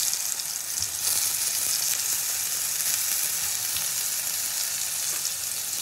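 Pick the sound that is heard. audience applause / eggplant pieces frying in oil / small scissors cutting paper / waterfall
eggplant pieces frying in oil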